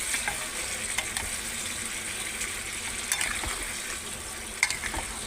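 Curry frying in a pan after a splash of water, giving a steady close sizzle with faint bubbling and a few sharp spatters, no talk.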